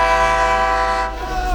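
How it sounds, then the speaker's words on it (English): A train horn blares loud and close in Bog Walk, Jamaica, a sustained rich tone held throughout that wavers slightly toward the end. "Train!"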